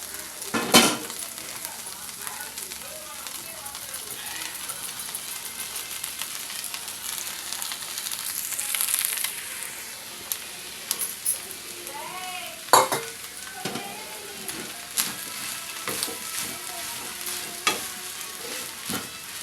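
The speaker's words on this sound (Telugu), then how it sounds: "ఈ రైస్ అంతా బాగా పట్టేలాగా కలుపుకుందాం." Cooked rice being stirred into a scrambled egg mixture in a hot pan, with a soft, steady sizzle and intermittent scraping and clinking of a spoon against the pan, close by with no talking.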